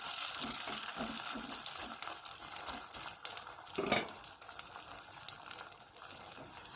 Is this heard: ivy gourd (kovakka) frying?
yes